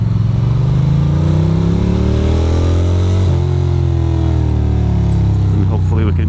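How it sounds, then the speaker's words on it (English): A passing Acura car on a rain-soaked street in Queens, heard from inside a vehicle as a steady engine drone with a rising then falling tone while it goes by, with some speech over it. "I'm gonna wait for that car to pass"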